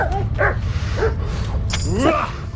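Dogs in the medieval role-playing video game Kingdom Come: Deliverance bark and yip in quick repeated bursts, close and loud over a low rumbling background, with a brief clatter near the end.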